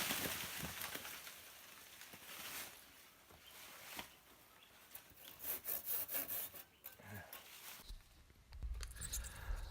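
Rough rhythmic rasping of a handsaw cutting through a branch, strokes coming close and steady, then a sudden heavy crash near the end.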